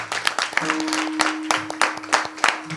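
An audience at a kirtan claps in scattered, uneven bursts for Nana, a short sharp patter that stays moderately loud throughout.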